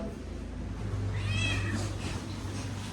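A house cat meows once in a drawn-out call, close by, over a steady low background hum.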